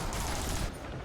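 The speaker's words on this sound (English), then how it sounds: "It is time for the barrage." A barrage attack in the video game Gotham Knights: a dense, loud burst of rapid impacts and gunfire-like blasts that holds steady and then eases slightly near the end.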